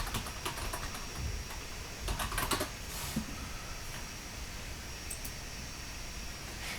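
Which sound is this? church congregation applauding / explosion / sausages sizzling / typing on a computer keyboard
typing on a computer keyboard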